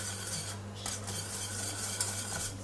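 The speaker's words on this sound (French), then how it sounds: "On touille." Caramel being stirred in a pan as salted butter melts into it, with soft continuous scraping and light utensil clinks over a faint hiss, close and quiet.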